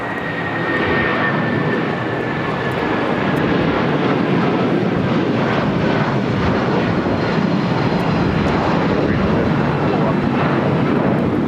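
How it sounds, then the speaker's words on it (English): A United Airlines Boeing 757-200 departs for Newark, its jet engines making a loud, sustained broadband roar that holds steady throughout, with a faint whine riding on top. "1331, taking off to Newark on a 757-200"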